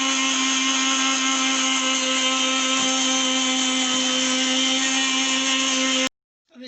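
A handheld beater whirs loud and constant through coffee cake batter in a bowl, holding one steady high motor pitch before it cuts off abruptly near the end.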